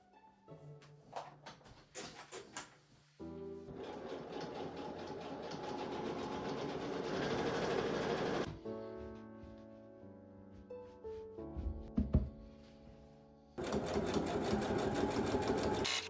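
A sewing machine stitches a seam on cargo pants in several bursts: short stuttering runs at first, then two long steady whirring stretches separated by a quieter pause with softer mechanical clicks and thumps.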